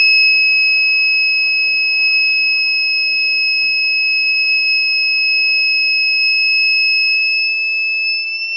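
A steady, loud electronic buzzer tone from a Cretile Explorer Kit holds two high pitches continuously, with a low motor hum running underneath most of the time.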